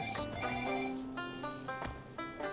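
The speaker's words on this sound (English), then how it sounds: "Someone's ringing my doorbell." A doorbell chimes with a short run of clear ringing tones, repeated a couple of times at moderate volume over light game background sound.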